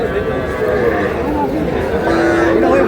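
Young bull calves and heifer calves at the Raniganj cattle market in Dinajpur give low moos and calls amid a busy, crowded bustle of overlapping voices and chatter at close range.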